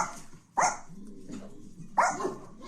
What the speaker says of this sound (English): Dog, quiet.